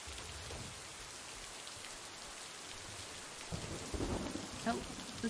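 Steady video game rain patters throughout, joined by low rumbling thunder and heavier drops in the second half, with no talking.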